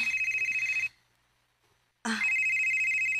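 A telephone rings loudly for an incoming call, with a steady electronic ringtone that stops for about a second and then starts again, heard alone with no talking.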